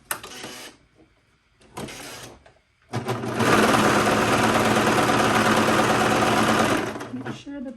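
Sewing machine whirring through a safety stitch on smocked pants, first in two short bursts, then in a long steady run of several seconds before stopping.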